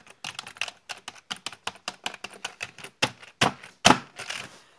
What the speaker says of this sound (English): They make quite a satisfying sound to type on.